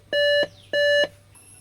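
Two loud, close electronic beeps in quick succession from a Dell all-in-one desktop computer during power-on troubleshooting, each lasting about a third of a second, then a brief quiet.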